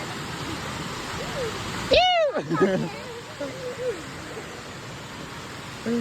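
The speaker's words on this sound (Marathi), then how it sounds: "धबधबा बघा मित्रांनो धबधबा भाजी धबधबा आहे लोणावळ्याचा" Bhaje waterfall near Lonavla gives a constant, even roar in the background, overlaid by a sharp whistling, voice-like call and scattered chatter of people.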